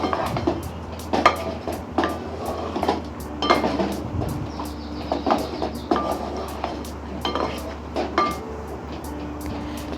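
Bottle gourd is stir-fried with spices in a pan for a Bengali-style lau dalna. A spatula clinks and scrapes against the pan in scattered bursts over a steady low hum, with no talking.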